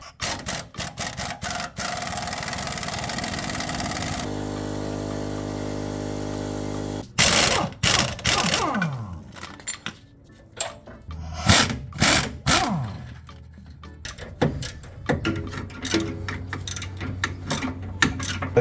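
Sway bar end links come off a Jeep using a 15mm wrench and an 18mm socket, with a steady mechanical whir, then rapid ratcheting clicks and metallic clanks of tools close by.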